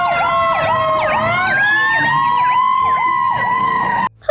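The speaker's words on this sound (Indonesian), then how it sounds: "Ternyata mobil pemadam kebakaran." A toy fire truck sounds its electronic siren, a loud, close wailing tone repeating in quick rising-and-falling cycles for about four seconds before cutting off abruptly.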